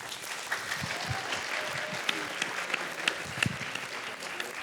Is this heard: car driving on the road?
no